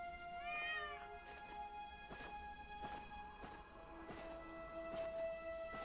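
A cat meows once in The Talos Principle Reawakened, a short rising-falling cry over a steady hum of game ambience and tonal music, with soft footstep-like taps recurring in the background.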